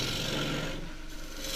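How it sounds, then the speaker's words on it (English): Deep fluted 3/8 bowl gouge roughing a small bowl of green casuarina on a lathe, a continuous dense rasping scrape that eases slightly midway, close and alone. "roughing this with the 3/8 bowl gouge, deep fluted bowl gouge."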